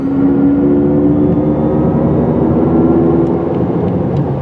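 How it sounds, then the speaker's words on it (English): A 2024 Mercedes EQE 350 electric car cruises on a freeway at night. Steady, loud road and wind roar fills the cabin with a constant hum and no engine revving. "So let's close this out with a bit of freeway driving."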